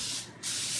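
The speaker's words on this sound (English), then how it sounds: "and spray with Pam." A short burst of Pam cooking spray hisses onto a foil-lined baking pan, a steady close spray with a brief dip partway through.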